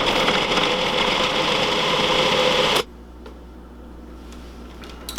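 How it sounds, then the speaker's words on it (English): A food processor blending butter and flour into a paste for pie crust: a loud, steady whirring motor that cuts off abruptly partway through, leaving quiet room sound with a faint click at the end. "we're just going to turn on the food processor, let it process for 20 or so seconds"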